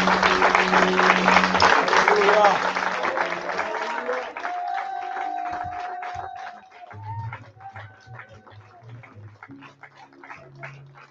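A church congregation applauds loudly at a three-day seminar, dense clapping that fades after a few seconds while voices and cheering carry on underneath.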